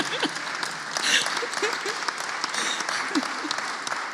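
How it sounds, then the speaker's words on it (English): Audience at a panel discussion breaks into a round of applause, a steady wash of clapping of moderate loudness with a brief swell near the middle, and a few voices talking faintly underneath. "Absolutely, round of applause, please."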